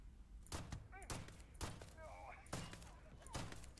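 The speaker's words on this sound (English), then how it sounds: "He's using a shotgun." Shotgun blasts ring out in close-quarters combat in a video game, about five sharp, booming shots spaced irregularly, faint overall, with quieter game effects in between.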